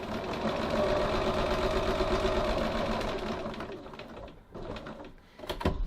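A sewing machine stitches a pocket seam along a marked line, running in a steady mechanical whir for several seconds before slowing and stopping, followed by a few brief clicks.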